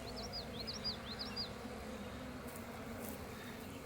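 Honey bees in a hive that has accepted a new queen: a low, steady buzzing hum, quiet and continuous, with a few faint high chirps early on.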